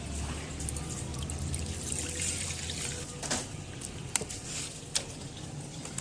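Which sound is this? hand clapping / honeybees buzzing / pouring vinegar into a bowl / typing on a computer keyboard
pouring vinegar into a bowl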